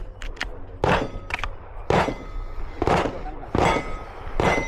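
Pistol shots ring out against steel targets at a Steel Challenge match, about half a dozen sharp loud cracks spaced roughly a second apart, each with a short ringing tail over faint background noise.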